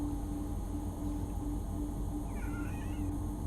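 A pet cat meows to be let out of a room, one drawn-out rising and falling meow late in the clip over a steady loud hum from a train simulator game.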